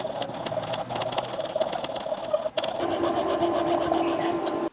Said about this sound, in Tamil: இதில் நம்ம ஒரு சின்ன ஆக்ஸா பிளேட் வச்சுட்டு நம்ம கட் பண்ணிக்கலாம்.